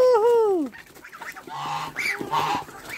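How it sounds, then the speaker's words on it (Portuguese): A feisty goose lets out a loud, close honk, followed by softer calls and clucking from other poultry in a farmyard where chickens are being fed. "Olha, a gansinha lá brabinha."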